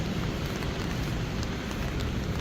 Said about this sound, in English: As the rain pours down